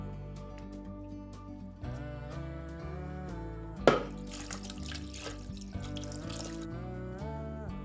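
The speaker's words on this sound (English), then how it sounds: "Liters of cold water." Cold water pours steadily into a pot for several seconds, with a brief clunk partway through and continuous liquid splashing.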